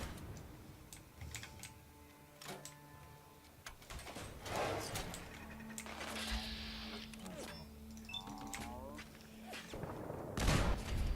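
Gunfire in the video game Fallout crackles in scattered bursts and sharp shots, mixed with clicking and other game sounds, while a voice talks over part of it.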